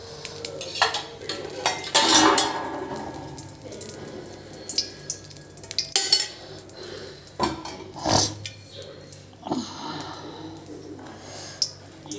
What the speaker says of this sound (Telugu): అదే దాంట్లో వేస్తున్నా తాలింపు.